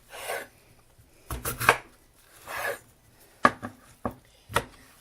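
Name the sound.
knife slicing russet potatoes for fries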